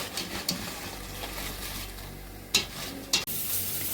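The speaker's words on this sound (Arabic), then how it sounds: "هلا عم نقلي الخبزات لحتى نساوي فتة" Bread pieces frying in oil for Syrian fatteh give a soft, steady sizzle, broken by a few sharp clicks and knocks of a utensil against the pan.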